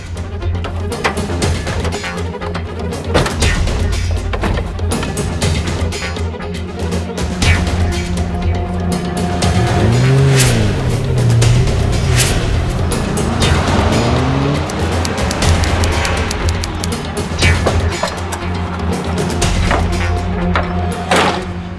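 A police car drives off, its engine humming loud and close with a rising, wavering tone partway through, set against a continuous rumbling background.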